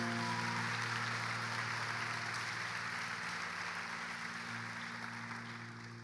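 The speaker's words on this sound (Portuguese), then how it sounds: "Vamos aplaudir a palavra de Deus com força?" Congregation applauding during a church sermon, a dense, steady wash of clapping that fills the space evenly and tapers slightly toward the end, with no voices over it.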